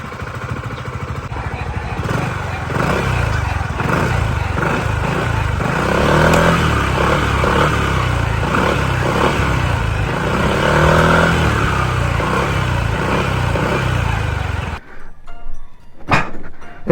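A Yamaha XMAX 300 scooter's engine runs close by, loud and steady with some throttle rises, then cuts out near the end, followed by a brief thunk.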